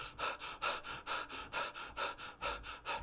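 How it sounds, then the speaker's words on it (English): A small group of people take short, quick panting breaths in a steady rhythm, about a dozen sharp exhalations in a row, fairly close and moderately loud, with no talking. "a little panting breath."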